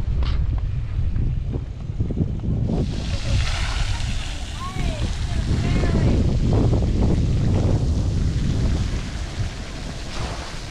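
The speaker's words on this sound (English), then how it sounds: "I don't know how much you can hear with the wind here, but the wind's just starting to pick up" Wind gusting along the Cooktown foreshore, loud continuous rumble and buffeting against the microphone that strengthens over several seconds, with a person talking underneath.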